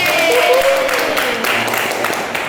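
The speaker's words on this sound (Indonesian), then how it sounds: "kita tepuk tangan lagi ya" A group claps together during a university group counselling session, a brisk and fairly loud patter of hands that runs steadily throughout, with faint voices mixed in underneath.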